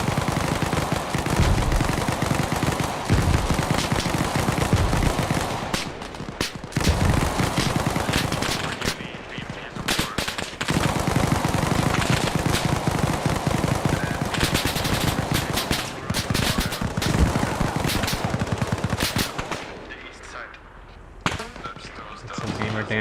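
Sustained bursts of gunfire as one player shoots at another during a live DEFCON military-sim event, loud and dense with rapid volleys, brief pauses and scattered shots, voices talking underneath.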